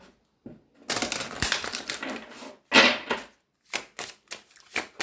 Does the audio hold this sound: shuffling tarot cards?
yes